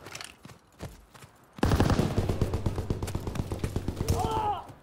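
Gunfire in Call of Duty WWII team deathmatch, scattered shots at first, then a sustained rapid burst of automatic fire under a rising in-game sound, loud and close.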